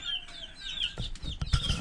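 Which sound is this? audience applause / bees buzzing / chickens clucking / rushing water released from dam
chickens clucking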